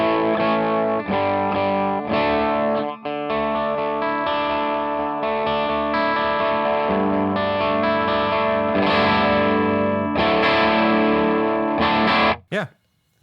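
Electric guitar through a Donner Triple Threat pedal at low gain, played with varying pick attack, producing dense sustained chords with a chorused, lightly distorted sheen, cutting off abruptly near the end.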